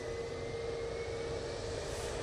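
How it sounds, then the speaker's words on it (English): An Airbus A320neo airliner taking off at Manchester Airport, a loud continuous engine roar with a steady whine held throughout, no voices. "Off to Zurich we go, this A320neo now"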